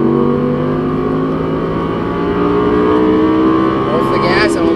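An Audi R8 V10 accelerates hard on a race track, its engine note rising in a loud, continuous drone heard from inside the car, steady for several seconds before a brief shift near the end.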